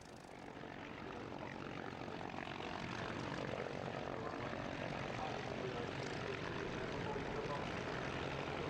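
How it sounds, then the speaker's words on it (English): Spitfires with Merlin and Griffon engines starting their takeoff runs together, the Merlin-engined aircraft on grass and the Griffon-engined ones on the runway at Duxford, a steady, distant-sounding propeller drone that builds slightly, with voices beneath. "as they all start their takeoff runs with the Merlin-engined aircraft on the grass and the Griffon engines on the runway"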